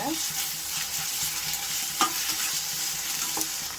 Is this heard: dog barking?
no